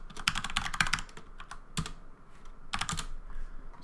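Fingers type on a computer keyboard in quick irregular bursts of close key clicks, with short pauses between flurries and no talking.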